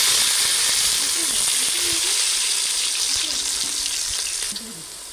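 Sliced onion and green chillies fry in hot oil with cloves, cinnamon and star anise, giving a loud, steady sizzle and hiss throughout that drops slightly near the end, with no talking.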